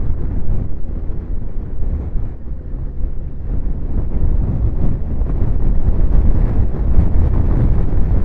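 Wind roars over the microphone during a ride on a Suzuki GSX-S1000GT motorcycle from Kilcreggan to Loch Lomond, a loud, steady low-pitched rumble and buffeting that swells slightly and never lets up, with no talking.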